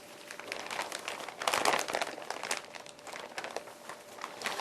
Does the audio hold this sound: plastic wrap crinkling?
yes